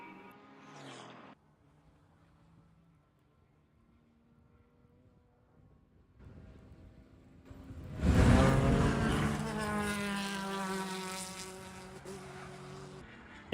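A race car accelerates in the distance during an endurance race at Sebring, its engine swelling to a loud roar that sounds like it briefly stutters and cuts out as it picks up speed.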